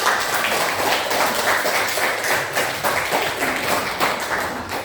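A room full of people clapping for a presenting team at a teachers' coaching session, dense and sustained applause for several seconds with no talking over it.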